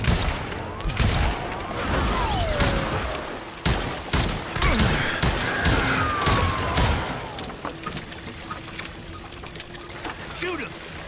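Gunfire rings out in the Wild West shooter game Call of Juarez Gunslinger, with repeated loud shots in bursts, ricochet whistles and game effects, while a voice talks over part of it.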